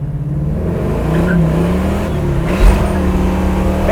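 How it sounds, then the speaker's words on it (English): A 1969 Camaro RS/SS V8 accelerates hard from inside the car, its engine note climbing loud and continuous through the gears with a deep rumble. "And it burned rubber, first, second, third."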